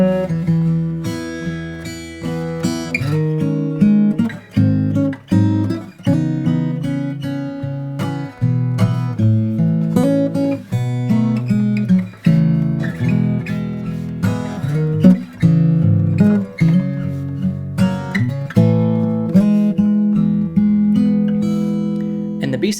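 Solo guitar plays the A section of a song in a fingerstyle arrangement, a steady melody over bass notes and chords, close and clear, with no talking.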